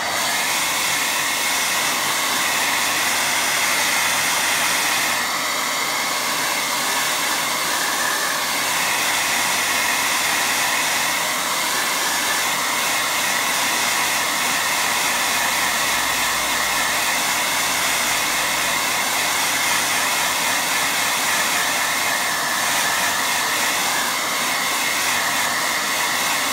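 A hair dryer blows steadily and loudly at close range over a wet watercolour beach painting, a continuous rushing whoosh with no talk.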